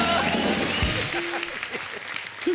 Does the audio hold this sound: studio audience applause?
yes